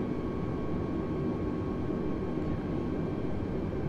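Steady, dense engine and airflow drone from an Airbus A320 on a landing approach in Flight Simulator 2020, a constant roar with no breaks or changes.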